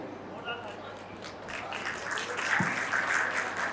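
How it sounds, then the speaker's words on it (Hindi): Audience applause at an Urdu-Hindi poetry evening welcoming a poet from Meerut, a broad steady clatter of clapping that swells toward the end, with a voice speaking over it. "जोरदार तालियों में इस्तकबाल कर लीजिए"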